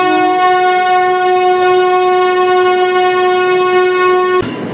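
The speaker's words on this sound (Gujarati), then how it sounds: "તો તમે જોઈ શકો છો ભાઈ બંને ટ્રેન એકદમ પાસે આવી રહી છે ભાઈ" Two passenger trains, the Veraval–Bhavnagar and the Porbandar–Rajkot, pass close together while one sounds a loud, steady horn for about four seconds before it cuts off abruptly.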